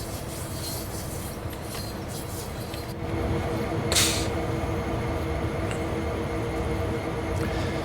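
Steady rumble and grinding rail noise from an EMD SD40-2 and GE C40-8W locomotive pair in a train simulator on Cajon Pass, continuous and fairly loud, swelling slightly partway through with brief hissing bursts.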